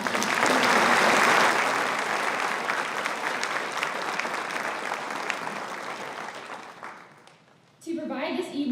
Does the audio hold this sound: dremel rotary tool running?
no